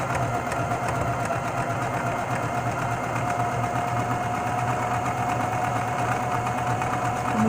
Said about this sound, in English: And just keep on sewing.